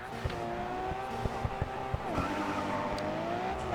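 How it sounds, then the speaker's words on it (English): A racing car engine in the video game GRID 2 drones and whines as the throttle is eased and blipped, pitch rising and falling, with faint clicks and a muffled voice underneath. "You can hear the throttle, what I'm doing to the throttle."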